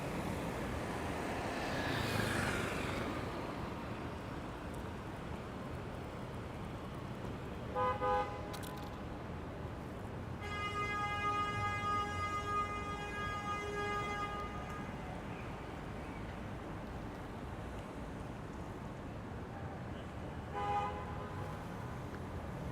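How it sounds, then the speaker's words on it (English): Car horns honk on a Miami street at night, with short tonal blasts at about eight seconds and again near twenty-one, and one longer sustained honk lasting several seconds, over a constant wash of traffic noise. "I think a lot of this honking is going to be more common once these buildings are built"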